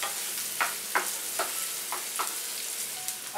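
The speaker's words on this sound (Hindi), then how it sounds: "कड़ी पत्ता को थोड़ा सा तोड़ के डाल देते हैं और प्याज को अच्छे से होने देते हैं।" Onions with broken curry leaves fry in a pan for a stir-fried kakora (spine gourd) sabji, a steady soft sizzle under about six brief scraping stirs spaced roughly half a second apart, close and moderately quiet, with no talking.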